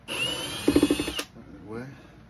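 A power drill driving screws into a speaker cabinet during refinishing, with a close whirring run and a rapid burst of ratcheting pulses, then a sudden stop followed by a person speaking.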